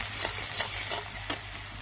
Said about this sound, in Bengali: তো থেতো করে রাখা রসুনটাকে আমি দিয়ে দিয়েছি।